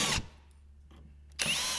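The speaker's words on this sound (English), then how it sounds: "Then we will take and drill these 2 rivets out here." A power drill bores out rivets on a BDX/SSI Ascender-Pro running board install, two short close bursts of whirring separated by a quiet gap.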